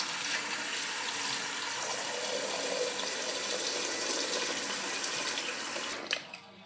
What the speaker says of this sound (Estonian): täidame ta veega